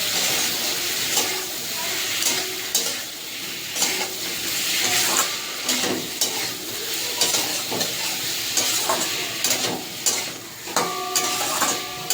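Cumin, coriander and chilli spice paste with ginger and turmeric frying in a pan, a steady sizzle broken by repeated scraping stirs and clinks of the utensil, close and fairly loud.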